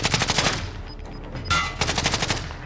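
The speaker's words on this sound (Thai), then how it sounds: "มีคนยิงมา มีคนยิงมา มีคนยิงมา" Rapid automatic gunfire in a battle royale shooter game, a burst of repeated close shots, a short lull with faint beeps, then another sustained volley.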